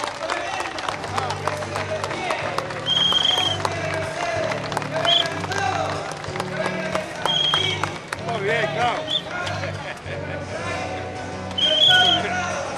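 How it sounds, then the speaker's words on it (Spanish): A crowd claps and cheers at a provincial torta frita festival, with sustained applause rising and falling over about thirteen seconds, mixed with voices talking nearby and crowd bustle. "Falta un aplauso acá para los muchachos."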